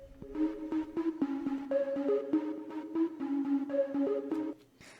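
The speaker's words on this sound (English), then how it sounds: "And then I have this little arpeggio." Short, rapid synth arpeggio from a triangle-wave preset with added noise, in an organic house track: bright plucked notes stepping up and down in a steady rhythm over a low sustained tone, alone and fairly loud, stopping abruptly near the end.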